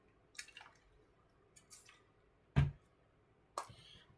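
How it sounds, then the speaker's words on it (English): A person taking a sip of water, with small wet lip and mouth clicks followed by a distinct gulp and a soft swallow, close and quiet with no talking. "I need a sip of water."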